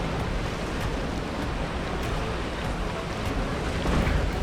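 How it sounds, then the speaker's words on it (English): Rushing, splashing water as a log flume ride in the Planet Coaster video game passes beneath a waterfall, a steady, loud, broadband wash that continues without a break. "you're going to get very wet on this ride. Like, really wet. Not going to lie. Especially going underneath the waterfall there."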